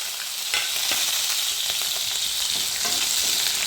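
Onion and garlic sizzle steadily in hot oil with mustard and fenugreek seeds while preparing Tamil-style ulli theeyal, with a dense continuous fry and a few soft stirring clicks.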